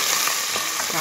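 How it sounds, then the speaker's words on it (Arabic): Chopped onions hit hot clean oil in a pan, making a loud, close, continuous sizzle with light crackling and stirring noises, alone with no talk. "هحط البصل، الزيت من نوع النضيف"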